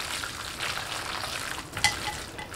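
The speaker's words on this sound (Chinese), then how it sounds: "然后来一点葱花，继续搅拌均匀" Batter of noodles, egg and chopped scallions being stirred in a bowl, a close, wet mixing sound with a sharp clink partway through, no speech.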